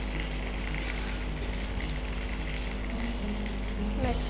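Pomfret fish fries in a pan of oil, giving a continuous dense sizzle and crackle at a moderate level throughout with no pauses.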